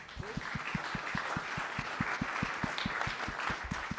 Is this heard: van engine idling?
no